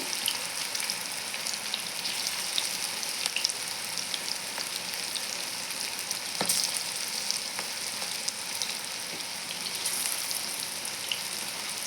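Spinach pakoda fritters (palakura pakodi) fry in hot oil with a steady, dense sizzle and bubbling crackle, continuous and close throughout, with faint occasional clicks of handling.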